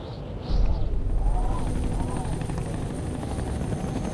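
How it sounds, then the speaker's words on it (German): Helicopters in the video game Fahrenheit (Indigo Prophecy Remastered) thump and roar steadily, a loud, continuous rotor drone with a low rumbling burst near the start and faint talk beneath. "Wo kommen denn jetzt die Hubschrauber her?"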